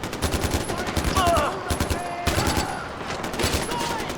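Close, steady gunfire from the video game Far Cry 4, with dense repeated shots running through the whole stretch beside other game sounds and a voice.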